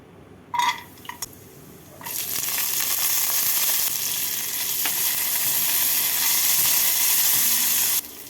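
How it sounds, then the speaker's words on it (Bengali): Raisins and cashews fry in hot white oil in a wok, a few small clinks and drops followed by a loud, continuous close sizzle that runs for several seconds and then cuts off. "সাদা তেল গরম করে এর মধ্যে আমি কিশমিশ আর কাজুগুলোকে ভেজে তুলে নেব"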